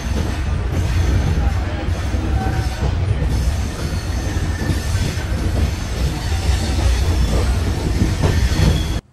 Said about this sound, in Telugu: మన ట్రైన్ అయితే గుంటూరు రైల్వే స్టేషన్ కి అయితే టర్నింగ్ తీసుకుని వెళ్తూ ఉంది